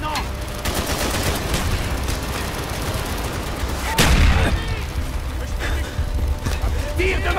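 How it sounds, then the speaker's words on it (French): Mortar and gunfire in Call of Duty: Black Ops, a dense stream of shots and blasts with one heavy, louder impact partway through, while voices talk over the din. "Tire de mortier!"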